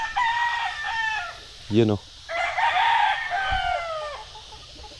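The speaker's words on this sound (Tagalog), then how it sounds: "Ipasyal ko dito sa aking munting manukan." Chickens in a small backyard poultry coop on a little home farm: a rooster crows loudly and close, while hens cluck around it and a voice speaks briefly in the middle.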